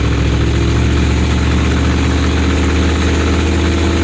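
A loud truck engine rumbles continuously up close, a heavy steady drone with slight rhythmic throb and no talking.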